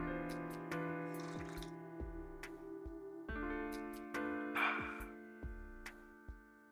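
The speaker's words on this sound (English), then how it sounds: "That was a crisp pour sound." Hot coffee poured into a cup, heard as a couple of brief splashy bursts over steady background tones and faint regular ticking.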